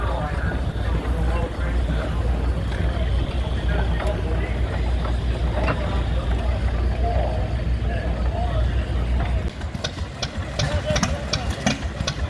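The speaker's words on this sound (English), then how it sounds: "Here's a picture of the old hit and miss engines running." Old hit and miss engines, among them a 1923 20 horsepower unit, run at a heritage weekend festival in Lanesville, a dense low chugging rumble mixed with outdoor crowd noise, followed by sharp repeated ticking knocks near the end.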